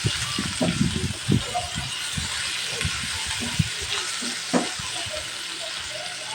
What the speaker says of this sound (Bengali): এখন এটাকে একসাথে ভালো করে কষিয়ে নেব।